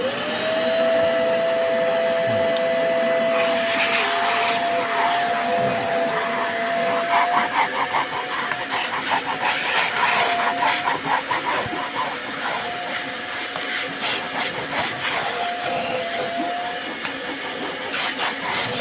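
A Beldray cleaner runs steadily after being switched on, a loud continuous motor whine with a rising tone at first and a rough, fluttering hiss throughout, with no talking.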